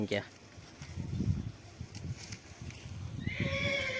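A horse at a cow shelter (gaushala) gives a high, wavering neigh near the end, heard over rustling ambient noise while people talk nearby.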